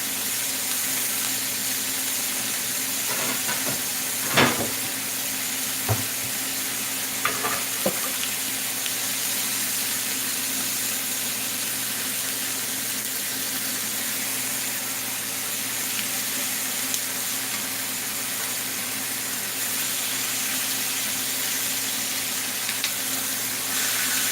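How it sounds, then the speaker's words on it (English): Chicken pieces browning in a hot pan for a gnocchi bake, giving a steady, even sizzle throughout with a few brief clicks and clatters near the start; no talking. "I'm not cooking these through, I'm just browning them on each side"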